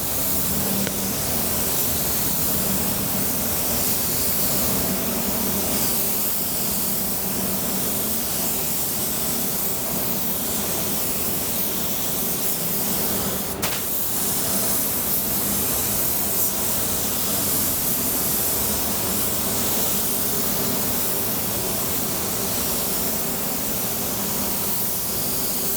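Spray gun laying sealer onto a car panel with solvent-based paint, a constant loud hiss of atomized spray running steadily for the whole stretch, with only slight variation in intensity as the passes overlap.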